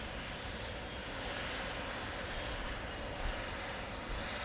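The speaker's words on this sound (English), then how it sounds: "we're going to have the Etihad going out now" An Etihad airliner departing Manchester Airport makes a steady, broad jet roar that sits at a moderate distance and holds fairly constant throughout, with no voices.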